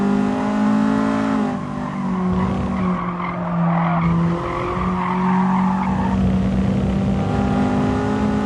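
Honda Civic Type R race car in an online racing video game, engine droning and revving loudly with sustained tire squeal and skidding through corners, no talk.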